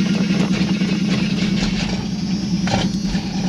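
An old truck engine idles close by with a steady low mechanical drone and an even throb, holding at a constant loud level with no talking.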